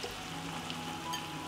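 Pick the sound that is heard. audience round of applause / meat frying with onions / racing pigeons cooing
meat frying with onions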